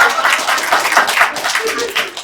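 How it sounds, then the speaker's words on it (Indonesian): Audience at an Indonesian stand-up comedy show bursts into brief, dense applause, loud and close, with clapping filling the whole moment. "Tepuk tangan."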